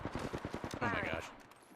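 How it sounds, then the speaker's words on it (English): Rapid automatic gunfire in a sci-fi shooter video game, aimed at the player, rattles in a dense burst with a brighter swelling blast partway through, fairly loud and close. "Being shot at. They spotted me. I'm taking shots."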